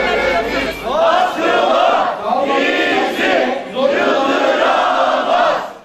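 Protest crowd chanting slogans in unison, loud rhythmic waves of massed voices rising and falling in repeated phrases, close and dense.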